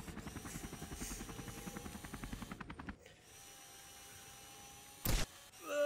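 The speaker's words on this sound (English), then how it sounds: "Mini helicopter?" Mini helicopter from the Henry Stickmin video game, a rapid rhythmic rotor chopping that runs steadily for about three seconds, then drops to a low hum, followed by a brief loud burst near the end.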